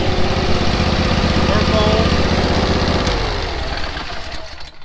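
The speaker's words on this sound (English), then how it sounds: "This is the Vanguard EFI 28 horsepower, so it's a beast." A Vanguard EFI 28-horsepower engine on a lawn mower running steadily at close range, a loud even engine drone that eases off and fades toward the end.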